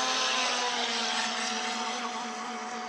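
A boat engine hums steadily with a droning tone, moderately close, slowly fading slightly over a few seconds, no voices.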